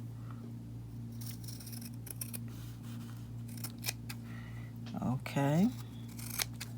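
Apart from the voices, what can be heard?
scissors cutting fabric pieces for earrings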